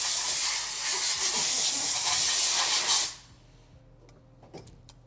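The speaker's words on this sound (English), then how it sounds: "He's got the air compressor going for he's drying off that flute." Air compressor nozzle blasting a loud, steady hiss of air to dry a flute on a repair bench for about three seconds, then cutting off to a quiet room with faint clicks.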